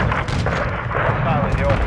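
AC-130 gunship cannon fire in Call of Duty: Modern Warfare II: dense, rumbling booms roll on without a break over a heavy low-end roar, with faint voice chatter mixed in.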